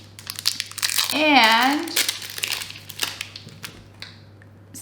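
Scissors cut open the plastic packaging of a Greek sweet, with close, crinkly rustling and crackling bursts as the wrapper is handled, while a person talks over it.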